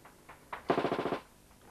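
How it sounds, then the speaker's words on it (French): A light machine gun (FM) laying down covering fire in wartime combat, a distant, faint burst of about eight rapid evenly spaced shots after a few scattered single reports. "Les mitrailleurs arment leur FM, s'avancent et tire en couverture."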